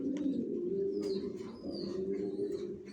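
Racing pigeon squabs cooing in a loft, a soft continuous low burbling coo from close by, fairly quiet, with faint chirps above it.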